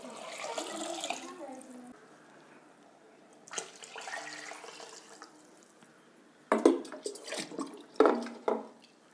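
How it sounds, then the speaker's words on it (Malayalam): Water is splashed and poured into a pot of rice in a few separate bursts, sloshing and gurgling close by, with quieter stretches between pours. "മൂന്ന് മുന്ത വെള്ളം ഒഴിച്ചു. പാത്രം നിറഞ്ഞു."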